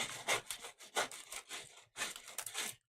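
Rough scraping of an embroidery file across a gel plate print in mixed media printmaking, a run of rasping strokes of uneven length with short pauses, close and fairly loud.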